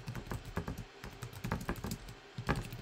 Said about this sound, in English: I'm just going to just type that for now